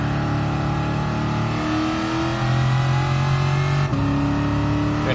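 A Shelby Cobra 427 pulls hard in second gear, its V8 roaring loud and close with a steadily rising pitch, then a brief dip before the revs climb again.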